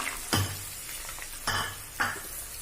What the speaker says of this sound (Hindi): इसे अच्छा गोल्डन होने तक फ्राई करेंगे